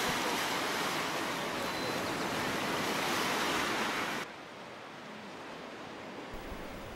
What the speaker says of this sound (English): From atop Arch Rock, you can watch the waves crash into the rocks below.